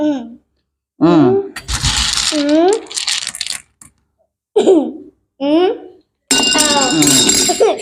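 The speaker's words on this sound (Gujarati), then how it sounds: "આવી રીતે ચમચી પડવી જોઈએ" Metal spoons dropping and clinking during a family party game, bright ringing clinks in separate bursts between stretches of silence, with people talking in between.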